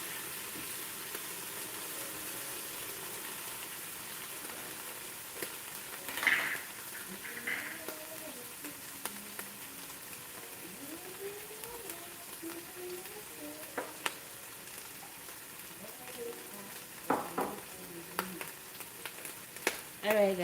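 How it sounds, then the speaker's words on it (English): Chopped onions sizzling in hot oil in a home kitchen pan, a constant soft frying crackle with occasional stirring clinks, close and steady with no talk over it. "So I'm going to just fry this a little bit just to allow the onions flavor to infuse into that oil."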